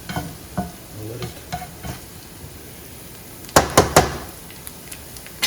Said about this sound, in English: So I'm going to throw the garlic in there